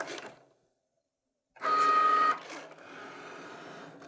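A Cricut cutting machine runs on printed cards, whirring and clicking as its carriage moves, with a steady electronic tone and a brief pause before the motor sounds resume, close and fairly loud with no talking.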